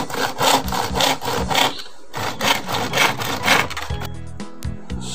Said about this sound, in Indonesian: Saya gergaji di sebelah yang tadi yang rapet.